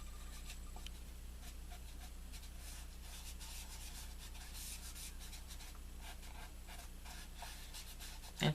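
Soft, quiet rubbing strokes as color is worked onto paper along a template, a faint papery scratching repeated in short passes under low background hiss.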